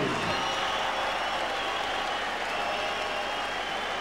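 A boxing arena crowd applauds after a knockout win for a new WBU middleweight champion, dense sustained clapping and crowd noise, loud and near, filling the whole stretch without letup.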